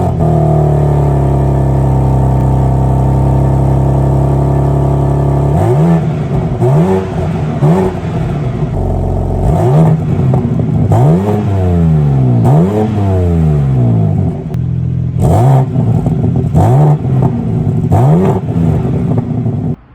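2023 BMW M4 Competition six-cylinder engine idling loud and close, then revved repeatedly in sharp rising-and-falling blips with short gaps, the throttle stabs coming in a quick series before settling.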